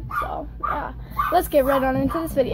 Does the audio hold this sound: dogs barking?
yes